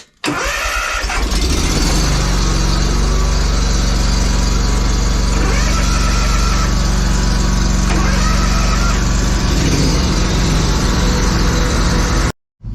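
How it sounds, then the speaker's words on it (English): Several lawn mowers start and run together as they warm up before a maintenance job, giving a loud, steady, close engine drone that holds throughout and cuts off abruptly near the end. "So I run the mowers about 5 minutes just to make sure that everything's working"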